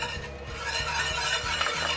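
Gravy mix whisked into cold water, giving a continuous close scrape and swish of the whisk against the bowl, steady and even for the whole stretch.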